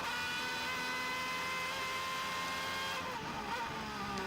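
Race car engine at high revs heard from onboard during a football-club-branded racing series lap for AS Roma, a steady loud whine that holds throughout and shifts pitch slightly near the end.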